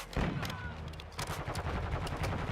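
Call of Duty: Modern Warfare 2 gunfire crackles in close, heavy bursts of sharp shots with short gaps between volleys, mixed with faint in-game voice chatter.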